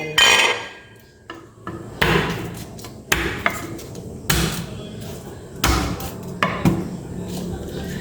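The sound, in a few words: preparing garlic and onion, chopping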